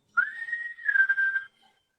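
A person whistles in imitation of The Walking Dead villain's menacing whistle: a clear two-part tune, the first note rising then holding, followed by a slightly lower wavering note, about a second and a half in total, close and alone.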